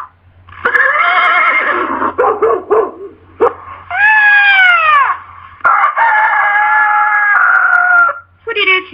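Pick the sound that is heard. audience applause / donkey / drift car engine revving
donkey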